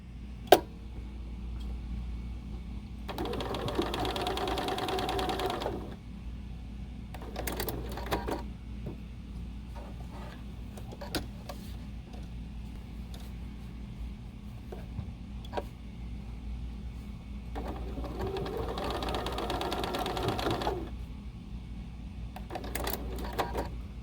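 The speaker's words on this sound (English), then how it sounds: "I'm going to take this to my sewing machine and just secure the elastic" Sewing machine running in two bursts of a few seconds each, stitching elastic onto a 3D fabric mask, with quiet pauses and small clicks between the runs.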